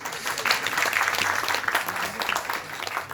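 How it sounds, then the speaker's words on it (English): Audience applause at a presentation, a brief burst of many hands clapping together, loud and close, fairly even throughout with no talking over it. "A big round of applause for the ladies."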